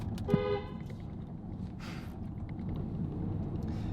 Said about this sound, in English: some car just came fucking towards me on the one-way road